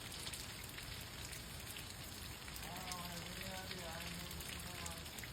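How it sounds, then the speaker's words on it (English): Steady, dense rain hiss pours down throughout, with a faint voice murmuring underneath partway through. "it's pouring down rain"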